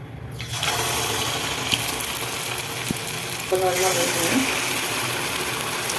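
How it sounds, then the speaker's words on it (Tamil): Fermented batter is ladled into hot oil to fry evening snacks. After a short quiet start it sets off a sudden, loud, steady sizzling hiss that keeps going, with a faint voice heard briefly partway through. "கரண்டியால் அப்படி எடுத்து எண்ணெயில் அப்படி ஊற்றிக்கலாங்க"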